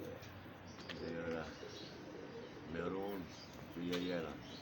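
Golden pigeons coo in three separate rolling calls, close and moderately loud, with someone talking nearby between them.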